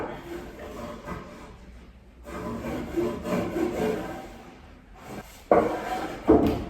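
A hand rubs and scrapes along the edge of a wooden kitchen piece to dull it, in short, close, dry bursts separated by pauses, with sharper scraping strokes near the end.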